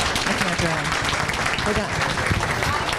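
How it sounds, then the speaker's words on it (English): An audience claps and cheers in a dense, continuous wash throughout, with people talking over it. "You guys give him a round of applause."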